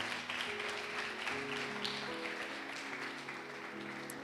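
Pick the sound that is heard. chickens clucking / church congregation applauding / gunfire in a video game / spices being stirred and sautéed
church congregation applauding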